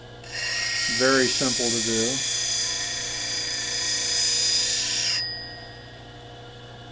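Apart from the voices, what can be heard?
sharpening a convex-grind bowl gouge freehand on a grinder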